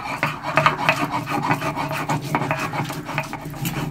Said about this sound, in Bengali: এবার এটাকে আমি ভালো করে শিলে বেটে নেব।